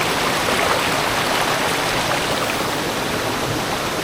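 A waterfall at a hidden forest spot pours in a steady, loud, unbroken rush of falling water that fills the scene, with no voices over it.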